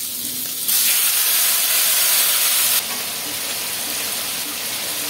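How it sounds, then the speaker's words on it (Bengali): Cumin seeds tempering in hot oil while cooking a curry, giving a loud, steady hiss of sizzling that surges for about two seconds and then settles back to a softer frying crackle. "একটু জিরা ফোড়ন দিলাম এখানে"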